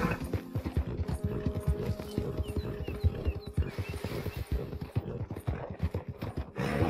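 A horse in Red Dead Redemption 2 clip-clops along at a steady trot, its hooves thudding rhythmically and close. A snort or whinny is heard briefly partway through.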